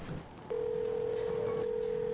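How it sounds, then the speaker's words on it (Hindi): A phone tone sounds on a single steady pitch, starting after a brief moment and holding loud and continuous to the end, with some faint background noise around it. "अब कौन फोन कर रहा है?"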